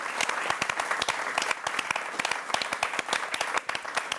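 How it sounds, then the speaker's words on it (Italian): Applause from an audience at a record label's tenth anniversary celebration, a steady patter of many hands clapping at close range, dense and even throughout with no voices. "Io intanto un applauso"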